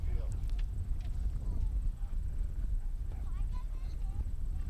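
A polo horse gallops during a match, its hooves drumming in a fast, steady rhythm against loud outdoor background noise, with a commentator talking over it.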